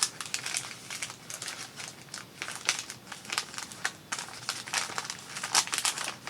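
Christmas wrapping paper crinkles and crackles steadily as it is handled during a craft supply unboxing, a close, continuous rustle with no talking.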